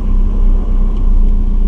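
Steady low rumble of a 1993 Toyota MR2 under way, continuous engine and road noise close inside the car with no talking.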